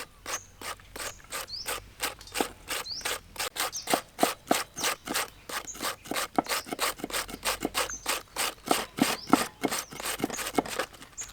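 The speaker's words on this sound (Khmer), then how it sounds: "តមកយើងឈូសស្ពៃក្តោប" Cabbage is shredded in fast, rhythmic rasping strokes, each a crisp scraping swipe, repeated steadily and heard up close.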